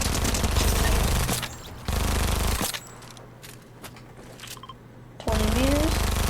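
Fortnite weapon fire comes in dense, loud automatic bursts separated by quieter gaps, each burst harsh and rapid. A player's voice is heard briefly.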